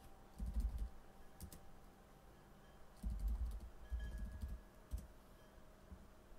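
Bursts of keyboard typing, quick clustered keystrokes in two main runs with brief pauses, fairly close over a faint steady background hum.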